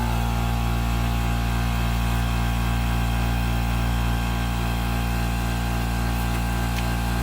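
Constant, loud mechanical hum of an air compressor running nearby in a workshop during blade replacement on a 2021 Cub Cadet riding lawn mower, steady and unbroken throughout.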